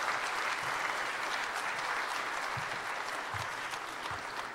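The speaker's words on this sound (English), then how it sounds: "So let's give them one more round of applause real quick for them." Audience applause for a sixth grade choir at a high school vocal concert, a steady, moderately loud spread of clapping from a seated crowd with a few low thumps underneath.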